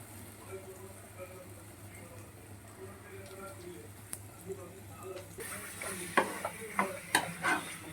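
Punugulu batter fries in hot oil, starting as a steady low sizzle and then growing into sharper crackling pops and bursts as more batter drops in, with a voice faintly present.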